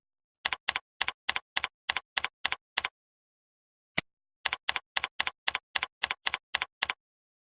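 Soft, close computer keyboard typing comes in two quick bursts of keystrokes, separated by a pause with a single click, in an otherwise quiet room.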